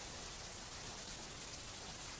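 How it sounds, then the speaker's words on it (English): Faint, steady rain makes a soft, continuous hiss with no distinct drops or thunder, heard throughout at low volume. "Sounds like it's raining."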